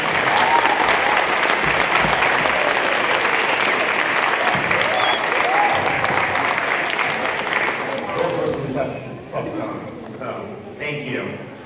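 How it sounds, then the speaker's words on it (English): Concert audience at a middle school holiday concert applauding the accompanist, a sustained dense wash of clapping that holds steady then gradually thins and fades toward the end. "Let's give her a round of applause."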